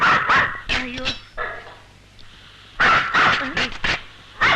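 A dog in a house barks and yips in several short bursts, close and loud, with people talking around the barks.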